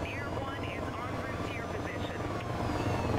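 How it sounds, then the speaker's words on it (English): Police helicopter in the racing game Need for Speed Rivals, a steady rotor drone running loud and continuous throughout, with talk over it. "Thank you for the chopper support."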